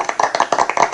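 A small number of hands clap in a quick, uneven rhythm, close and crisp, about a dozen claps in a brief burst with no crowd behind them.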